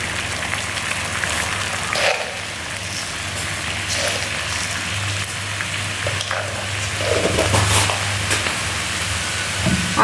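Water heating in a pot for tea gives a steady, close hiss and soft bubbling seethe that continues without a break, with faint clinks here and there.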